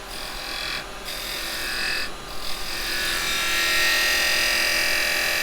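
A detail carbide chisel squares an edge on end-grain pine turning on a lathe, giving a continuous close scraping, whirring rasp that builds louder toward the end, with no talk.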